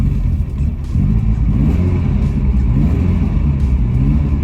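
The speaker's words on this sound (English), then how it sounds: "this thing fires back up and runs all right" A Ferrari 308 engine runs loud and close, a deep steady rumble with slight rises in revs, and no voices.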